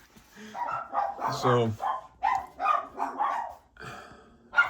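Two dogs bark back and forth at each other nearby in short, loud volleys with a brief growl, mixed with someone speaking.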